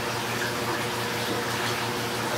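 Tap water running steadily into a sink while granular ferric oxide is rinsed, a constant close splashing hiss with no breaks.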